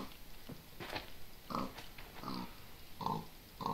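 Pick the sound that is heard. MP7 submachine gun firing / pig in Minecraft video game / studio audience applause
pig in Minecraft video game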